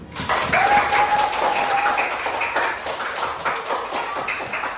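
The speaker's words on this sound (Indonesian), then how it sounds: "beri tepuk tangan dulu untuk orang semua yang bisa dapat menjawab soal kali ini" Primary school students clapping in a maths classroom lesson, a burst of loud, fairly dense applause that carries on for several seconds, with a brief whistle-like tone early on and no speech over it.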